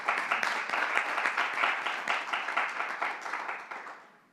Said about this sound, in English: You should applaud that, yes.